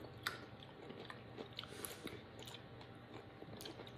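Someone bites into and chews a very sour pickle close by, with wet crunching and squishing sounds repeating quietly, no talking.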